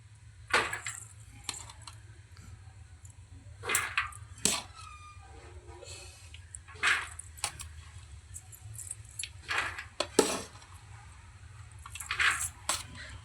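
Wheat grains scooped from a clay pot and poured into another vessel, giving separate bursts of rattling, clinking grain roughly every one to two seconds against a quiet background.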